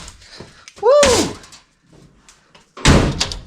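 Doors on a 1957 Chevy four-door under rust repair shut with two solid, close thuds, the second about two seconds after the first. A short high-pitched vocal yelp comes just before the first slam.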